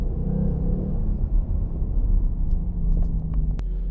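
Engine of a 2019 Ford Mustang GT convertible with an automatic gearbox, a deep steady rumble swelling slightly under throttle, heard from inside the car, with a short click near the end.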